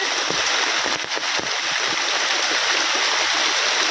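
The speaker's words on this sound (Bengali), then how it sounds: "এত বৃষ্টি হচ্ছে" Heavy rain pours steadily over an outdoor clay-stove cooking area, a dense continuous hiss that stays loud and even throughout, with no talk.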